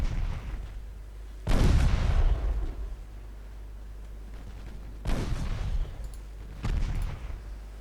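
Warship guns fire in Ultimate Admiral Dreadnoughts, with three separate heavy booming salvos spaced a few seconds apart, each a loud deep blast that rolls away into a decaying rumble over a low steady background.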